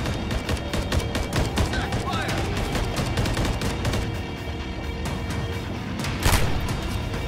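Sniper rifle gunfire and battle noise in the video game Call of Duty: Warzone, with sharp repeated shots and booms layered over a constant bed of game sound, one especially loud blast near the end, with players talking throughout.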